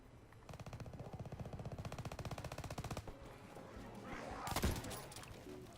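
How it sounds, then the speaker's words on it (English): Rapid automatic gunfire at a zombie in Call of Duty WW2, a long even burst of fast shots followed by a louder blast and a scattered impact, fairly quiet overall. "So I can just shoot him, see how many times it takes to kill him body shot wise"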